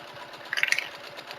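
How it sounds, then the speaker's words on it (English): A sewing machine runs in a short burst while top stitching the other side of a bag strap, its quick motor whir and needle chatter rising briefly in the middle. "So you're just literally top stitching the other side of the strap."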